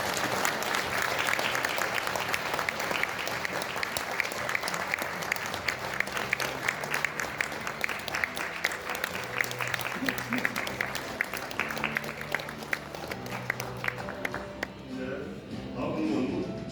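Sustained audience applause at a ceremony, a dense steady patter of many hands clapping nearby, with voices briefly audible in the crowd before it tapers off.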